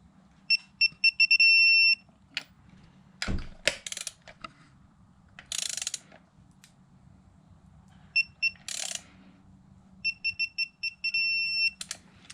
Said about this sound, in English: You can see it beeps and vibrates and everything.